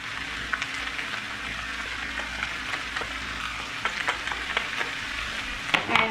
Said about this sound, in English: fry this for another 1 to 2 minutes at a medium flame